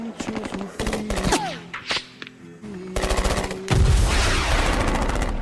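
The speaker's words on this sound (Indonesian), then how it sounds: "di luar terlihat kala itu pertempuran masih berlangsung dengan sangat sengit" Rapid automatic gunfire from a film battle set in 1980s El Salvador rattles in dense bursts, loud and close, with music and a voice mixed in.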